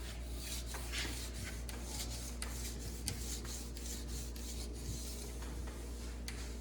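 A 400-grit stone is drawn back and forth along a race ski's steel edge, tip to tail, making soft, steady rasping strokes close by over a low constant hum, with no talking.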